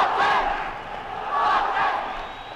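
A large crowd of football fans roars at St James's Park on Tyneside, a sustained mass of cheering and shouting that swells twice and stays loud and distant-sounding throughout.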